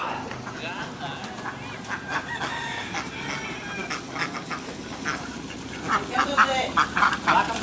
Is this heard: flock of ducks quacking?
yes